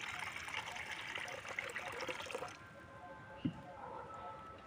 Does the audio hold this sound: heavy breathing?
no